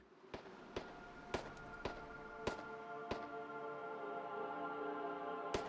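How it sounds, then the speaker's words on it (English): Distant gunshots in the VR shooter Hot Dogs, Horseshoes & Hand Grenades, heard as seven sharp cracks at irregular intervals of roughly half a second to two seconds, faint over a steady background hum. "Oh, somebody is shooting."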